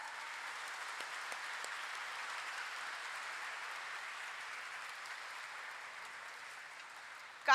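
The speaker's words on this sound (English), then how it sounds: "let us welcome them with a resounding of claps" Audience at a stock exchange inauguration ceremony for a bull statue gives sustained, even applause, heard somewhat distantly and softly, steady from start to finish.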